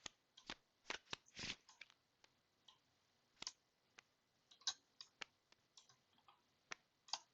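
Playing cards being shuffled and handled during a tabletop card game, with quiet riffles, snaps and taps in irregular bursts, close and fairly faint with no talk.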